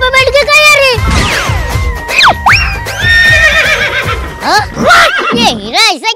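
Loud horse whinnies rise and fall repeatedly across the clip, mixed with busy speech-like voices and clutter, with a final whinny near the end.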